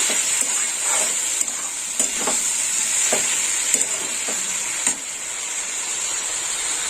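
Long beans and potatoes frying in hot oil, a steady loud sizzle with occasional scraping stirs and soft clinks through the whole stretch, no voices.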